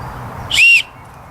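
One short, shrill whistle blast from a small survival whistle on a paracord handle sounds close and loud, lasting about a quarter second before cutting off into quiet.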